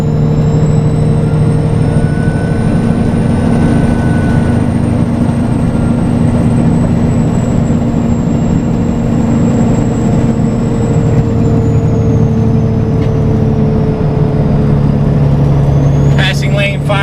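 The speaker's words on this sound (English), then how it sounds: "Hey, you can hear the turbo start to whine." A truck's turbo whining as it climbs the Salt River Canyon stretch of Arizona Highway 60, a steady high tone riding over a constant loud engine drone with the driver talking.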